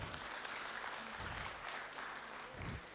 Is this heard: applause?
yes